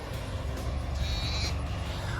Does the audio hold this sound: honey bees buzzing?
no